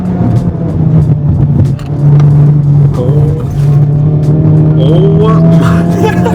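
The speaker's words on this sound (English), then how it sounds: "I hear it blow off." Honda Civic Type R with a turbocharged engine, driven hard on cold tires: a loud continuous engine drone with revving and brief whooshing turbo blow-off releases near the end, no talk.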